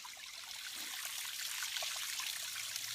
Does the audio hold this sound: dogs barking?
no